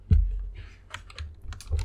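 Code being typed on a computer keyboard, a quick irregular run of close, crisp key clicks and thumps with brief pauses, heard alone.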